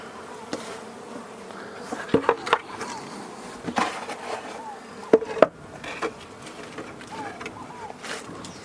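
Stingless bees at a meliponary hive box as its lid is closed, a steady low insect drone with several sharp wooden knocks and clicks from handling the box.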